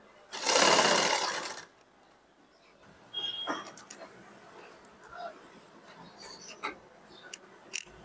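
A sewing machine runs a loud, steady burst of stitching as piping is sewn along a round neckline, then gives way to quieter clicks and fabric handling.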